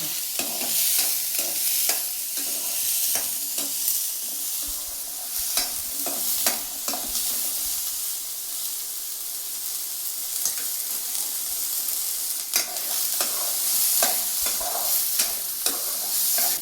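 Pepper and tomato chutney ingredients frying and being stirred in a pan until golden, with a steady bright sizzle broken by frequent sharp scraping clicks of a spoon, close and fairly loud throughout with no voices.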